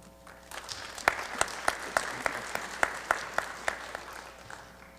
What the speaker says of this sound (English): I love all the applause.